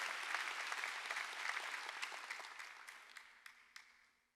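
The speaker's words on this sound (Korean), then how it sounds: "박수로 하나님께 영광입니다." A church congregation applauds during a Sunday worship service, a dense broadband patter that starts strong and steadily thins out, leaving a few scattered individual claps at the end.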